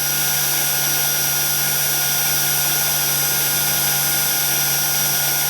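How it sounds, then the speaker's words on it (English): Power drill boring into a piece of silver for stamped earrings, its steady whining hum running continuously and fairly close, with no one talking. "just almost let the weight of the drill push the drill bit down"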